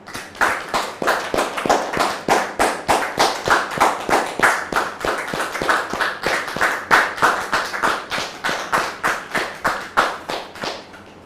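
An audience claps in steady rhythmic unison to welcome a guest at a church gathering, sharp evenly spaced beats repeating about three times per second for the whole stretch, loud and close with no voices.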